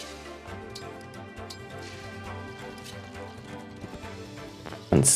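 Horse hooves clip-clop in a steady rhythm in the Fire Emblem Engage video game, moderately quiet beneath game music with no talk, ending in a sudden louder hit.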